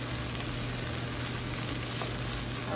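Seasoned rice frying in a frying pan with onions and chives, a steady, dense sizzle that holds evenly throughout, close and fairly loud, with no talking.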